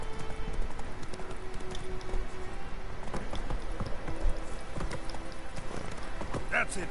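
Horse hooves clip-clop steadily in The Witcher 3, a continuous rhythmic trotting under game ambience, with people talking over it.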